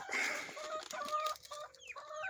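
Chickens cluck and murmur inside a coop, several close birds making short pitched calls and rising trills in a busy overlapping run with no talking.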